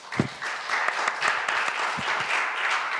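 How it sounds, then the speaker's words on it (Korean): An audience applauds presenters at a conference session on the AI era, a steady, dense wash of clapping that fills the whole stretch with a few sharper individual claps standing out. "일단 박수 한번 좀 부탁드리겠습니다"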